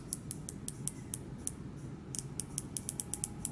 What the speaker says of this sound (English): So it's 120 click unidirectional dive style bezel.